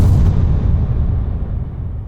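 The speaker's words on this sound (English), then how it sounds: "ensuing explosion of the Death Star" Death Star explosion sound effect from Star Wars, a loud deep rumbling blast that opens at full strength and slowly fades away over about two seconds.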